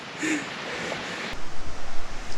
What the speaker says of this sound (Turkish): Şelale yüzünü gösterdi arkadaşlar. Maşallah şuna bakar mısınız ya nasıl gür akıyor.